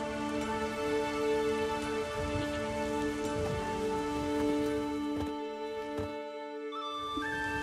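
Steady rain in the video game The Witcher 3: Wild Hunt, a continuous hiss under layered game music and tonal ambience, with a brief drop in level near the end.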